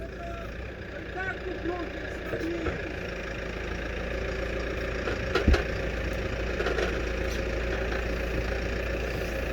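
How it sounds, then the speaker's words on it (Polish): A farm tractor fitted with a loader bucket idles with a steady low diesel rumble, while people talk over it outdoors and a brief knock sounds partway through. "To jest taki sam ciągnik jak tamten, tylko łyżka inna."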